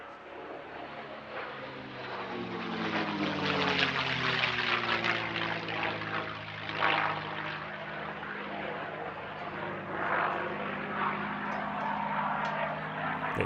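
Vintage propeller aircraft flying at the RAF Cosford air show, a steady engine drone with a shifting pitch that swells and fades as it passes at moderate distance.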